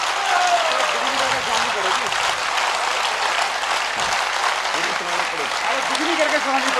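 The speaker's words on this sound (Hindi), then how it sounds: "इतनी तालियां बज गई" An audience at a Hindi poetry recital applauds after a poem, continuous clapping with voices speaking over it.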